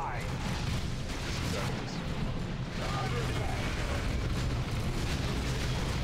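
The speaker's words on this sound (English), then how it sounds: "Just keep throwing grenades, Tarkus" Grenade blasts in the strategy game Dawn of War 2 keep up a continuous rumbling roar of explosions and battle noise, loud and dense, with talking mixed underneath.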